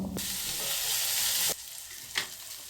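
Chopped large onions sauté in oil with cinnamon and cloves for a Chettinad onion curry, giving a loud steady sizzle that cuts off sharply partway, followed by quieter frying and a brief scrape of stirring.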